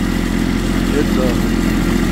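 A Kubota B2501 compact tractor engine runs at a steady idle nearby, a continuous low throbbing drone with a voice faintly over it.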